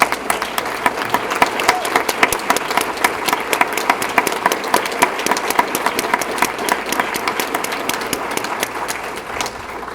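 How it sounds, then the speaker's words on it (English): An audience at a Woman of the Year business magazine event gives sustained applause, with loud, dense clapping and crowd noise filling the whole stretch and easing slightly near the end. "Can we give them a round of applause?"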